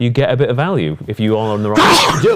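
A man sneezes once, sharply and loudly, right after talking during a horse racing preview discussion, the burst cutting in close to the microphone.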